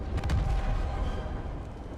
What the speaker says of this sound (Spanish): Wow, una explosión.